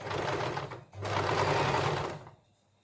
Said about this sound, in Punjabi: ਹੌਲੀ ਹੌਲੀ ਮਸ਼ੀਨ ਚਲਾਉਂਦੇ ਜਾਇਓ